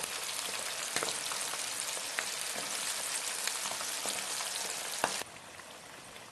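Honey BBQ chicken wings frying in oil until golden, a close, steady bubbling sizzle with occasional pops and crackles, dropping to a quieter simmer near the end.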